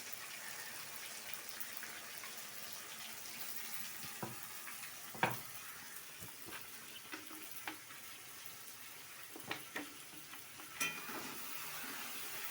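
Ground spice paste hitting hot oil in a pan gives a steady, broadband sizzle, broken by a few sharper clinks and splutters as it is stirred, fairly close and with no talking.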